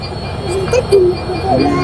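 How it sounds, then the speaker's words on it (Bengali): Two trains moving through a railway station in Bangladesh, one bound for Dhaka and one for Rajshahi, give a steady rumble with brief squealing wheel tones, loud and close, with faint voices over it. "দুটো ট্রেন একটা ঢাকায় যাচ্ছে একটা রাজশাহী যাচ্ছে"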